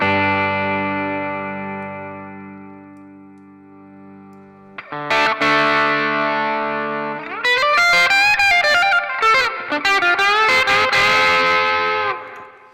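An electric guitar played through the BB Boost preset of a Sonicake Matribox II multi-effects unit: a long sustained chord rings out, then fades, then gives way to busier driven phrases with quick bends and single notes, loud and up front.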